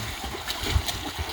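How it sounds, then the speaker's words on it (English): Someone takes a first swim in a cold homemade straw bale pool: light splashes and water sloshing close by, with one stronger splash near the middle. "Here's the first swim in the pool."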